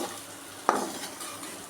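A single quick scrape of a spatula through an okra stir-fry in a pan after salting, brief and close, over a faint background sizzle.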